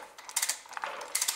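A socket ratchet loosens a bolt on a Honda Civic 1.8 engine, giving quick close metallic clicks in short bursts with brief pauses between them.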